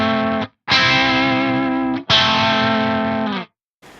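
Distorted electric guitar melody harmonized diatonically by a Fractal AX8 intelligent pitch block, two long sustained harmony notes with a short pause between, loud and close with no voices.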